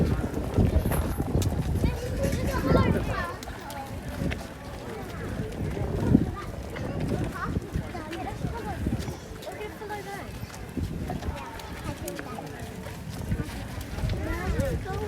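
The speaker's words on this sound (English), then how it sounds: "we're following the horses" Horses clip-clopping on hard ground inside Warwick Castle, steady hoof beats amid a busy crowd with people talking throughout.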